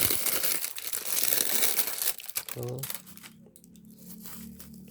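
Thin plastic film crinkling and tearing loudly as it is pulled off a newly bought heuchera, a shade-loving houseplant, with a brief voice near the middle and quieter rustling afterward.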